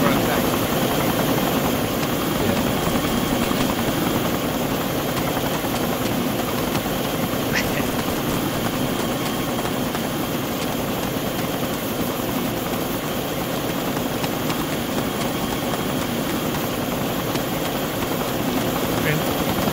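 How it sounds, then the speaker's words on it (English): A military helicopter engine and rotor run continuously as a loud, steady roar throughout, while voices talk over it. "It's a chopper on the"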